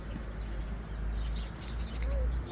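Pigeons coo and birds chirp faintly in the distance over a low, steady rumble of background noise, with a few brief, scattered calls.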